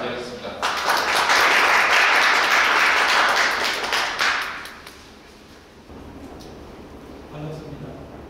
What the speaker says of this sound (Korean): 그럼 박수로 강윤재 교수님을 맞이하겠습니다.